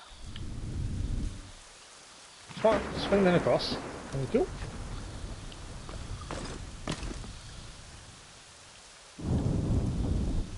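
Rain falls steadily in a forest in Assassin's Creed III Remastered while thunder rumbles in low, heavy bursts at the start and end, with someone briefly talking over it.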